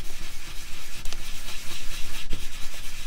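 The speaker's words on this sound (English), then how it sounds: "So I just grind this sandpaper." A stone seal surface is ground back and forth on sandpaper, making a close, continuous rough scraping with rhythmic strokes throughout.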